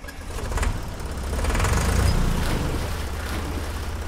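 Cartoon tractor engine revving as it accelerates through a swamp, a steady loud low rumble that swells toward the middle and then holds, with no voices over it.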